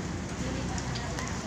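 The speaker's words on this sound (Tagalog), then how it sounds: "Umuulan." Steady rain patters on the surfaces of a rooftop terrace on a house's upper floor, a dense, even hiss with no pauses.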